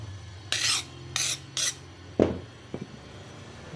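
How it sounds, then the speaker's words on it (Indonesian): A grinder smooths the sharp edges of a broken motorcycle mirror glass in three short, bright rasping bursts, followed by a couple of sharper knocks, close and fairly loud against a quiet background. "Sekarang di luar dalam, kita haluskan pakai gerinda."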